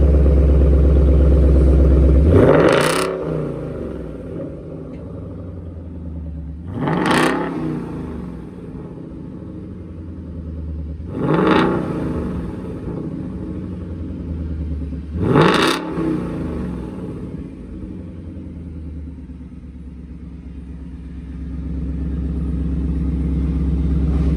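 A 2020 Ford Mustang GT V8 with Roush axle-back mufflers and resonator retained revs hard four times at a steady interval, each burst rising to a loud roar and falling back to a deep idle rumble.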